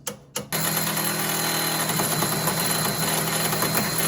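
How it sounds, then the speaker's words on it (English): A pneumatic chisel hammers at a car's sway bar links in a rapid, steady rattle that runs loud and continuous after a couple of short opening bursts. "We also added a chisel as well into the mix."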